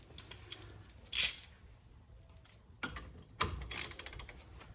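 A socket ratchet clicks as it tightens bolts during a front rotor replacement on a 2006 Chevrolet Impala, with a sharp metallic clank, then short bursts of ratcheting close by.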